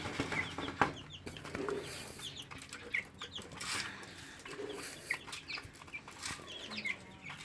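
Three backyard chickens cluck and murmur nearby in short, scattered calls over a faint outdoor background, with a few soft rustles and wing sounds in between.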